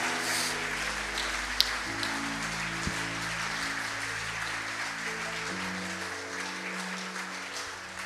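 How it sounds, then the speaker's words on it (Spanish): A church congregation claps during a worship service, soft, even applause carrying on throughout, with sustained organ or keyboard chords underneath. "Dele un fuerte aplauso a la honra y gloria de Dios."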